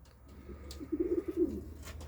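Soft pigeon coos rise and fall in a short rounded phrase, fairly faint, from a flock of pigeons including a large Karapal, over a low background hum with no talking.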